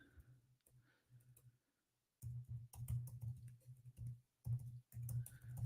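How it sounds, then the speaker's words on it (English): Computer keyboard typing comes through as quick bursts of soft clicking keystrokes, close and fairly quiet, broken by short pauses with no one talking. "Hope you can hear me typing."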